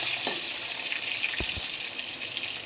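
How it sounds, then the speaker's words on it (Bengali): Potato pieces fry in hot oil, a steady crackling sizzle throughout, with a couple of brief low knocks as the pieces are handled. "তো এই দেখো আলুটা আমার লাল লাল করে ভাজা হয়ে গেছে, এখন আমি আলুটা তেল থেকে তুলে নেব।"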